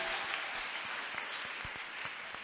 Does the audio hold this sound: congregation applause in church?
yes